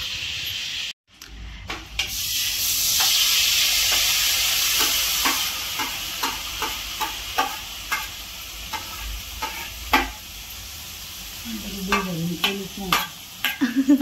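Onion paste fries in butter with a steady sizzle, broken by repeated rhythmic scrapes of a spoon stirring the pan, close and fairly loud, with a brief voice near the end.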